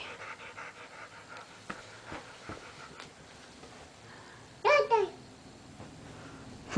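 A dog pants in quick, rhythmic breaths close by, with a brief higher vocal sound breaking in partway through.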